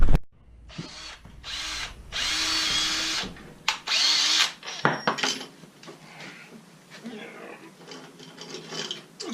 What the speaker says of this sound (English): Okay, and then we'll just get us a drill bit. We'll drill them.